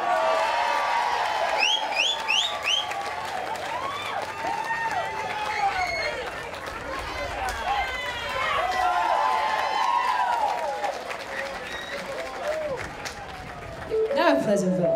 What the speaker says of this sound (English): If you could please give me a round of applause.